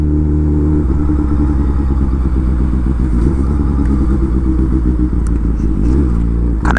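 Honda Hornet motorcycle ridden through city streets at night, its engine droning loudly and steadily up close with rhythmic firing pulses, shifting pitch as it accelerates and eases off, with no talking over it.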